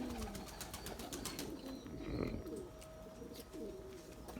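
Pigeons coo softly in a loft, including excitable males among tumbler breeding birds, low repeated throaty calls close by over faint rustling and clicking, with no one speaking.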